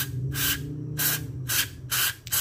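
Cleaner sprayed onto the throttle body of a Honda Vario 125 scooter, four short hissing bursts in a quick, even rhythm over a low background hum.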